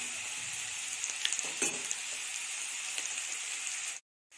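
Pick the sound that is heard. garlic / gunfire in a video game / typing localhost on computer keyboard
garlic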